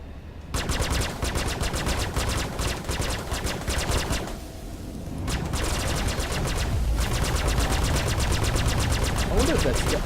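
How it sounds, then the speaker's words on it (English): Close-range automatic gunfire in the video game Star Citizen: rapid bursts of shots crackle loudly, break off briefly, then return as a sustained, dense volley through to the end. "Okay, gunfire close by."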